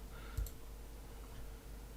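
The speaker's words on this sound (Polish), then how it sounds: "wklejam token i klikam przycisk wejdź" A single short click of a computer mouse button, close and faint against a quiet room hum while logging into a webinar.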